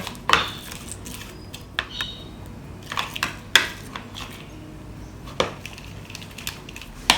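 A utensil stirs shrimp in a bowl of wasabi mayo sauce. It makes scattered clinks and taps against the bowl over a quiet background.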